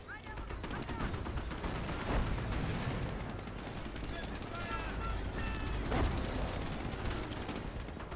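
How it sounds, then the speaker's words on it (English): Machine-gun fire from Priest units in the strategy game Company of Heroes, heard as dense, continuous bursts and rattling shots amid battle noise, with a voice speaking over the fighting. "these priests with the machine guns, they can actually kill infantry pretty decently"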